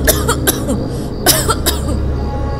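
A woman coughs in a dramatized horror story scene, several harsh bursts in quick succession, loud and close over a dense background of ambient sound effects.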